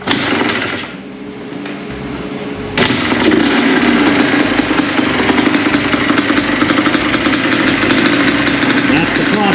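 A Yamaha Blaster quad's engine idles with a low rough chug, then the throttle is blipped and it jumps into a louder, harsher rev that holds steady to the end, close and loud.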